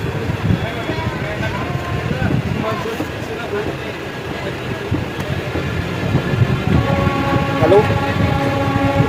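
Rumble and rattle of the Nauchandi Express sleeper coach running on the rails, with a horn-like tonal note near the end, heard from inside the coach under intermittent talking.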